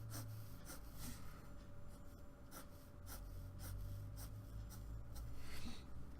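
Pencil scratching across paper while shading a fraction diagram by hand, with repeated short rubbing strokes in an uneven rhythm, faint and close against a low steady background hum.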